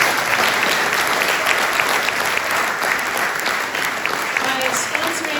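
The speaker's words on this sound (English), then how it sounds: "So big round of applause to Rob." An audience at an evening event claps for a sponsor in sustained, dense applause, loud and even from start to finish.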